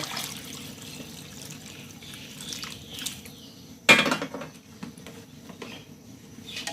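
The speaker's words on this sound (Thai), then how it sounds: "เมเติมน้ำหน่อยนะ เพราะน้ำจะน้อยไป" Water is poured into a pot for beef tongue noodle soup, a faint trickling and splashing with a sharper clatter of pot or utensil midway, quiet and close.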